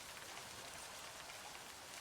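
Steady rain falls in a horror interactive-novel video game, a dense even hiss that stays constant and fills the whole stretch with no voices over it.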